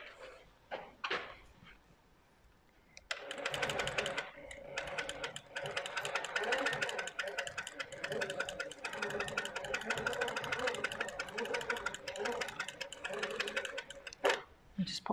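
A sewing machine stitching a big quilt on a small table runs in a steady, fast whirring hum for about ten seconds after a few brief handling clicks at the start.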